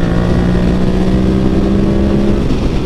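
A modified Yamaha MT-07 motorcycle in fourth gear accelerates on a highway, its engine droning loud and steady with a rising tone, close and continuous with no talk.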